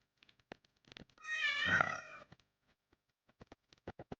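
A cat meows once in a video game, a drawn-out, wavering cry near the middle, with sparse clicks and taps before and after it.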